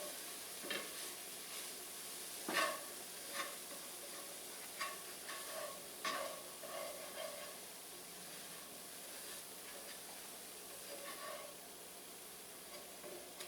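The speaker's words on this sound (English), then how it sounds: "Keep stirring because it's a pretty darn heavy pan." Onions stirred in a heavy pan just taken off the heat: a quiet steady sizzle with soft scraping strokes of the spoon at an uneven pace, close by, with no talking.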